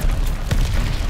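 A single heavy missile explosion in the Call of Duty: Vanguard video game: a sudden booming burst with a deep low rumble, set against steady loud battle noise.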